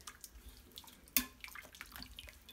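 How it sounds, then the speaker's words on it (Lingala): Hot water poured over beef tripe in a pot, a faint, brief trickle and splash with one sharp knock partway through, quiet and close. "nasopeli yango mai ya moto botala"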